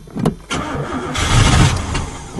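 An old, rusty Oldsmobile 88 car engine that had sat for three years cranks and catches, then keeps running with a rough, loud mid-range roar close by.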